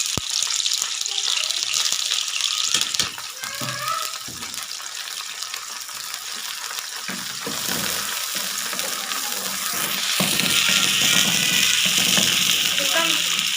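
Sliced onions fry in hot oil in a pan with a continuous loud sizzle and hiss, broken by occasional stirring scrapes and a few faint voices underneath.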